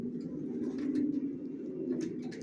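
A racing pigeon coos steadily up close, a low throaty rolling sound held through the whole moment, with faint rustling above it.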